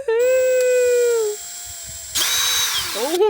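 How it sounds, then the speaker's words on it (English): An electric drill spins a propeller mixing attachment through paint, a steady high whine that drops out midway, then a louder burst of stirring noise with a rising motor pitch at the end. "Then it can just mix the paint like this with the drill."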